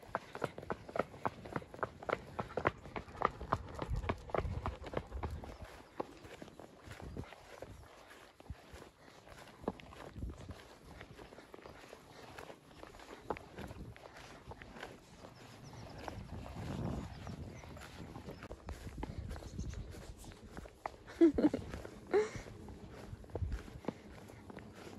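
An ex-racehorse walks at an early-morning yard, its hooves landing in a steady, fairly close clip-clop rhythm with rustling and movement around it; no voices.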